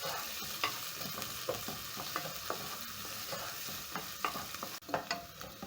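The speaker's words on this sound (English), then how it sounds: "Stir in the onions and garlic." Onions and garlic sizzle in a pot as a utensil stirs them, with steady frying noise broken by repeated scraping clicks and knocks, fairly close and with no talking.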